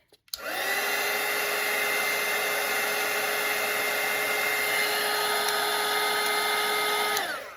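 A hair dryer blasts steadily across wet watercolour paint on a Grinch wreath painting, switching on with a click and holding a loud, even whir for about seven seconds before cutting off, with no talking.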